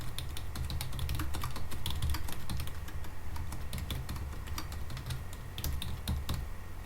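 Fast, continuous typing on a computer keyboard, with close, clear key clacks in a dense, uneven rhythm and no voices.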